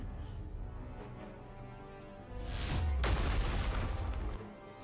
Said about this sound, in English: There's a cacophonous explosion as the wall is entirely vaporized out of existence.